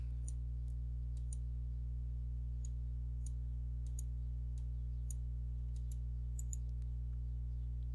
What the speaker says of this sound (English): Type 60, hit enter